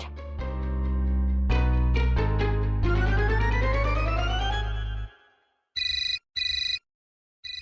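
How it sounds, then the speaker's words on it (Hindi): A telephone rings in short repeated bursts, three quick electronic trills that stop and start, after loud dramatic music swells and cuts off in an indoor home scene. "अरे फोन बज रहा है किसी"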